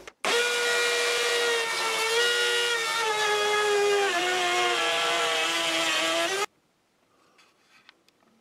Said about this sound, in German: Und jetzt können wir wieder von vorne bis hinten in einem Stück durchfräsen.